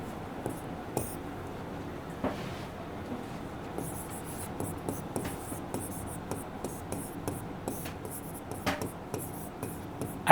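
Pen or chalk scratches steadily through a quiet room, a string of small strokes and taps with short pauses, close but soft, no voice over them.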